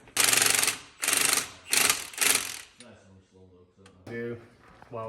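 An impact wrench on setting 2 hammers a bolt during truck axle work, loud buzzing bursts repeating four times in quick succession, then quieter mechanical clatter and a voice talking nearby.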